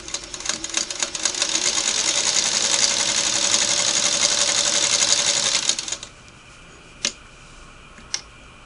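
A Singer Model 301A sewing machine stitches fast in a steady, whirring run for about six seconds, then stops, leaving two isolated ticks afterward.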